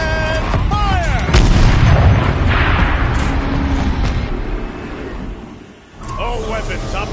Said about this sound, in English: Rotate turret! And fire!